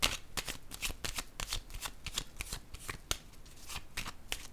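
Tarot cards riffled and shuffled in repeated quick papery bursts, close and fairly loud, with no talking over them, before a card is drawn from the deck.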